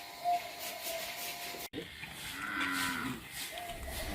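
Cattle low at a livestock trading centre in West Lombok, Indonesia, ahead of Eid al-Adha; a single moo sounds against steady hissing background noise, with a sharp click partway through.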